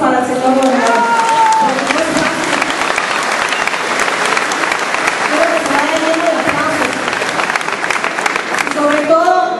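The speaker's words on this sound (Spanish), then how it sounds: "Otro aplauso para el señor gobernador." Loud, sustained applause from a large crowd fills the space, with voices calling and cheering over the steady clapping throughout.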